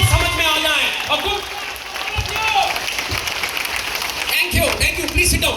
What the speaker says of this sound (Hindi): एक बार जोरदार अपने लिए ताली